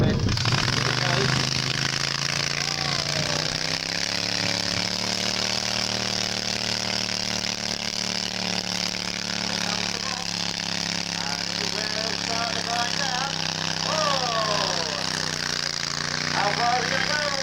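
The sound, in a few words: tractor engine revving in a tractor pull at a steam fair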